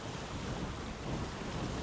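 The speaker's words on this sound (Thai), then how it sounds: "ลมแรงซะจนต้องเซฟเลย" Strong wind gusting at sea in the sailing video game Windbound, a steady, dense roar with rushing water and waves beneath, continuous and loud throughout with no voices.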